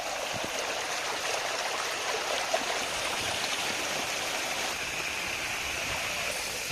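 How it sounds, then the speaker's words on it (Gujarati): Steady babbling and gurgling of water flowing out of fields in a stream, continuous and fairly close, with no voices. "વાડીમાંથી નીકળતા પાણીનો ખળખળ અવાજ તમે સાંભળી શકશો"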